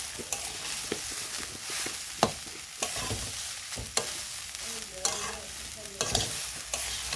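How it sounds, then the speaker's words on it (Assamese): Dal and rice fry in a pan with turmeric for khichiri, sizzling steadily while a spoon stirs and scrapes in repeated sharp strokes, close and clear with no talk. "এতিয়া মই দালি আৰু চাউলখিনি 2ৰ পৰা 3 মিনিট ফ্ৰাই কৰি ল'ম"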